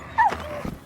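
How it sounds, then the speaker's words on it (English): Dog in the Kingdom Come Deliverance 2 video game gives a short whimpering yip, a single brief high call followed by a faint second sound. "where'd this damn dog come from?"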